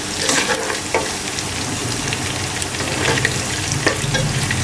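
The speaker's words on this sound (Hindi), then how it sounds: "ये लहसुन अब अच्छी तरह भुन गया।" Crushed garlic fries in oil in a pan for mutton yakhni pulao, giving a steady close sizzle with occasional stirring scrapes, and no one talks.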